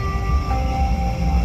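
A Sheffield tram runs along its rails, a loud steady low rumble with tonal motor whine and rolling wheel noise, heard from inside the car with no talking.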